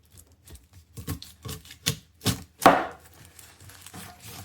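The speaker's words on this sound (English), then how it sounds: "I just cut both onions in half." A knife chops through onions on a board to halve them, giving about a dozen sharp, irregular cutting knocks close by, with no talking.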